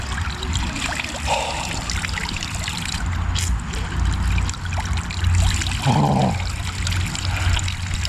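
Cold spring water pours and trickles steadily close by, with a couple of brief splashy gushes standing out over the continuous flow.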